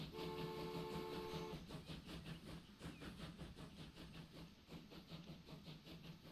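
A heavy train runs in the Transport Fever 2 video game, rumbling and clattering steadily at moderate distance with a sustained tonal hum early on, fairly quiet overall.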